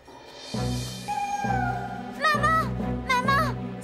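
An animated cartoon cat lets out several drawn-out, wavering meows, loud and close, with music and a voice in the background.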